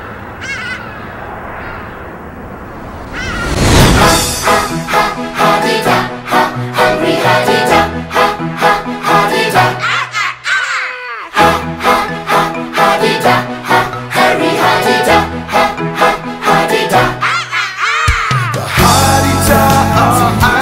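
Hadeda ibises calling at sunrise in Johannesburg, loud harsh honking caws repeated in rapid bursts from several birds nearby, filling the air almost continuously with short gaps.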